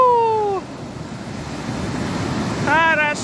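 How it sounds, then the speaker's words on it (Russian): Ocean surf rolls onto a Sri Lanka beach in a steady loud wash with wind buffeting the microphone, while voices call out briefly at the start and end. "Хорошо прошлась волна."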